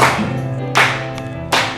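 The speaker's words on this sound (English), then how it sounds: "Oh yeah, we're clapping on beat." A group of people claps together on the beat, three sharp unison claps spaced evenly apart in a steady rhythm, loud and close.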